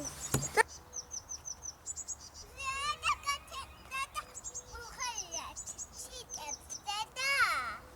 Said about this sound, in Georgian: უხარიათ ჩიტებს? ხო, ჭიკჭიკებენ, ხო?